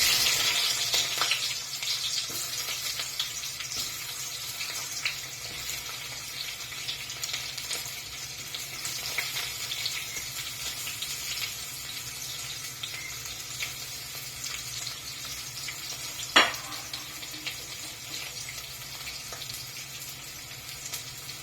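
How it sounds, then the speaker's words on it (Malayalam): Onion sizzles in coconut oil with mustard seeds in a pan, a steady close crackling fry with occasional pops and a sharp knock partway through, continuing without speech. "കുറച്ച് വെളിച്ചെണ്ണ ഒഴിച്ച് കടുക് പൊട്ടുമ്പോഴത്തേക്ക് നമുക്ക് കുറച്ച് ഉള്ളി ഇടാം"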